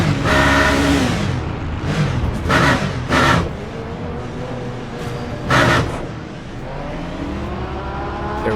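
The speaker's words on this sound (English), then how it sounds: "that is one of the Ferrari GT3s just behind us in the pits" Ferrari GT3 race car in the pits at the 24 Hours of Le Mans in Le Mans Ultimate, loud engine blips and revs in several sharp bursts over a continuous idle, close by with no voices.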